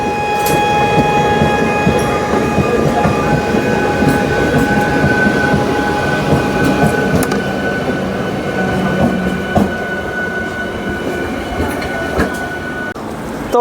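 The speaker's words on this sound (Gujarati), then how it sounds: "સિટી ટ્રેન છે." A city train on the rails at Asarva, Ahmedabad, rumbles loud and steady from close by. A sustained tonal whine runs above the drone, with occasional clanks from the wheels.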